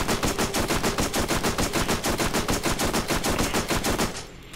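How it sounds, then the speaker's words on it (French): An assault rifle in Borderlands fires a loud, fast, continuous automatic burst lasting about four seconds, then cuts off abruptly into a brief quiet tail. "c'est un fusil d'assaut"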